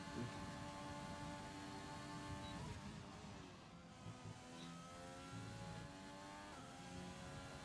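Renault Formula One race car engine in a sim racing game at an Italy round, a steady, sustained high-pitched drone with layered harmonics, holding near-constant revs with slight dips throughout, close and continuous with no talk.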